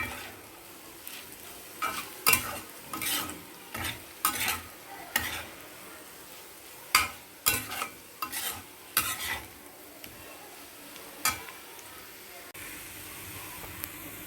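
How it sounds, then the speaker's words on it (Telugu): Potatoes frying with chili powder in a pan, making a steady sizzle broken by repeated scraping stirs that come in bursts and then ease off toward the end. "ఇలా ఒక నిమిషం వేయించుకున్నాక"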